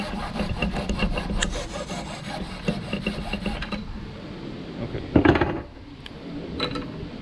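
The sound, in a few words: hacksaw cutting a plastic pipe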